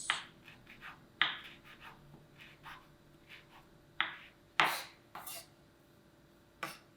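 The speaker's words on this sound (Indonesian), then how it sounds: "Jadi 1 daun jeruk itu biasanya 4 yang kecil. Dicincang halus." Small kaffir lime leaves are chopped fine with a knife, each stroke a sharp, close tap at an irregular pace, some louder than others, over a quiet background.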